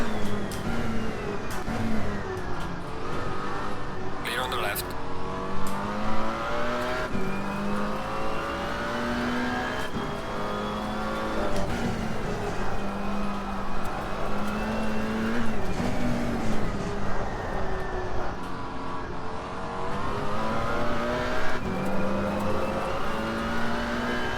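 A McLaren GT4 race car in a racing sim at Zandvoort accelerates hard, its engine note rising and dropping through repeated gear shifts, loud and continuous for the whole stretch with no talk.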